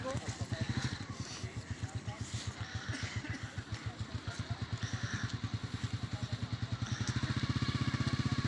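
A motorcycle engine idles and putters at the head of a student protest rally in Taxila, its rapid, even low pulsing steady and close, while someone talks over it.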